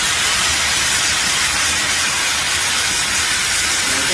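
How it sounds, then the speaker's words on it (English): A firefighting hose nozzle opened to a wide fog pattern gives a loud, continuous broadband hiss and rush of spray, steady from start to finish with no talking. "Like we normally do a wide fog pattern and use it as a ventilation tool."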